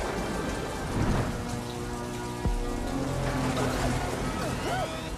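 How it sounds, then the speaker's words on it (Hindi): Heavy cartoon rain pours in a steady, dense hiss, with a rumble of thunder partway through and faint voices mixed under the downpour. "अब तो तुम्हारे साथ रोने के लिए बारिश भी आ गई।"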